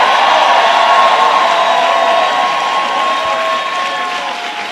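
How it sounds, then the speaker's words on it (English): Steady, dense crowd applause with some cheering fills a health care rally in New York for the state Attorney General. It stays loud throughout and fades slightly toward the end. "Give our Attorney General a big round of applause."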